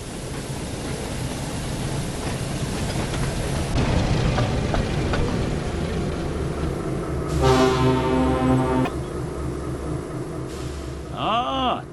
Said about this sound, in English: Suddenly, Diesel pulled into the yard with a train of trucks